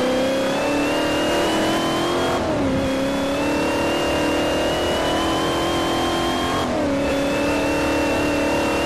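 A Saleen S5S race car in the Forza 4 racing game revs hard with a loud, steady engine whine, dropping briefly at two upshifts before climbing again.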